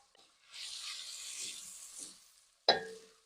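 Chopped leeks go into a pot for lentil soup and start a soft, brief sauté hiss that fades, followed by a single sharp clink of a utensil near the end.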